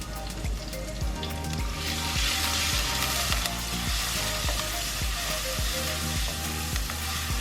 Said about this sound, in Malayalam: എണ്ണ നന്നായി ചൂടായി കഴിയുമ്പോൾ അതിലേക്ക് ചതച്ചെടുത്ത ഇഞ്ചിയും വെളുത്തുള്ളിയും ചേർത്ത് കൊടുക്കാം